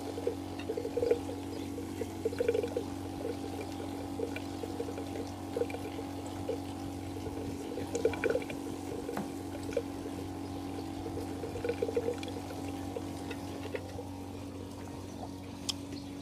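A bait bucket aerator hums steadily with a low motor drone while a continuous stream of small bubbles burbles and trickles through the water, close and even throughout.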